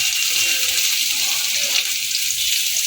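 Water pouring into a pan of fried spices, a loud, steady rushing splash close by that continues without a break.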